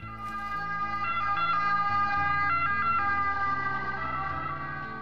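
An Italian ambulance siren sounds a two-tone alternating pattern, repeating steadily and loud over road traffic rumble, with no speech.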